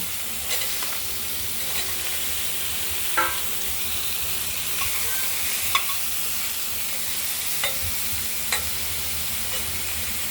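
Pieces of ridge gourd fry in oil in a pan with a steady, close sizzle. A few sharp clicks from stirring break through the hiss now and then.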